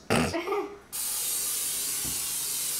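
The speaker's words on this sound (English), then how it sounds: "spray the pan with the oil" A steady broadband hiss of oil spraying from a can onto a pan, starting abruptly after a short sound and continuing evenly to the end.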